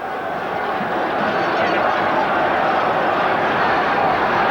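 Steady dense roar of a rugby crowd on its feet at a 1980 Ranfurly Shield match between Auckland and Waikato, a continuous broad wash of cheering and chatter with no breaks.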